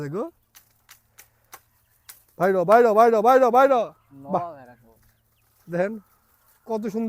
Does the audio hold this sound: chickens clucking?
yes